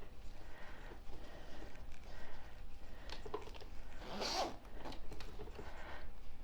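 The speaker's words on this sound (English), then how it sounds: "Then you watch when we zip this up." A zipper is drawn closed along a sewn fabric boxed pouch, a quick close raspy zip standing out from soft handling noises around it.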